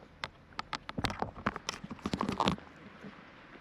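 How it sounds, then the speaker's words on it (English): Donkey hooves clip-clopping on a town road in Vlora, Albania, a quick run of sharp knocks at mid distance over faint background noise. "The guy with his donkey is going through."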